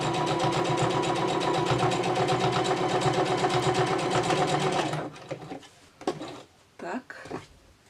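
Sewing machine stitching the bottom hem of a fabric doll's sleeve, a fast loud continuous mechanical whirr for about five seconds that stops abruptly, followed by quieter handling noises.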